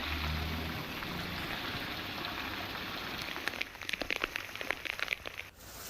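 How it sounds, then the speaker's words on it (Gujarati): Heavy monsoon downpour over a Gujarat village area, a dense steady hiss of rain that shifts partway through to sharper scattered drops and splashes striking a nearby surface, with no voices. "ધોધમાર વરસાદ પડ્યો છે।"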